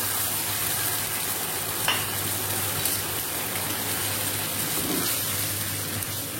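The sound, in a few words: beef stock added to hot pan after frying steaks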